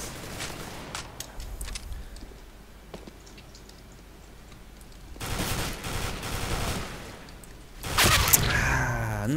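Gunfire in the video game CS:GO during a competitive match against bots, with bursts of shots alongside footsteps and ticking sounds, getting louder toward the end.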